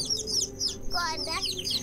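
Young chicks and hens give rapid high peeping and soft clucking calls, close by, with a denser burst of chirps in the middle of the stretch.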